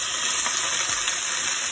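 Chopped leek dropped into a hot frying pan over browning garlic and ginger gives a loud, steady, dense sizzle that holds evenly throughout, with no voices.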